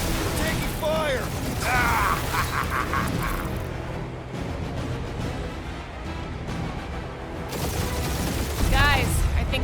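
Gunfire erupts during a firefight in the video game Guardians of the Galaxy, with loud bursts and bangs mixed among music and layered effects throughout, while voices talk over the action.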